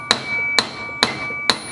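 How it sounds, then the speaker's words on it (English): Four evenly spaced, sharp metallic hammer strikes on a piece of pipe set in an 8mm hole in a steel block, flattening out a flange; each blow rings briefly and close up in a quiet room. "Drop your piece of pipe in there and hit it"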